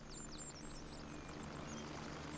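Helicopter arriving in the military shooter video game Gray Zone Warfare, a steady low rotor rumble and turbine drone, faint and continuous, with chirping birds above it.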